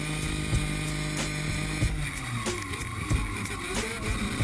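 A drift car's engine revs and drops repeatedly with sharp clutch-kick surges, high-pitched and buzzy, heard at moderate distance during a Mad Mike drifting run.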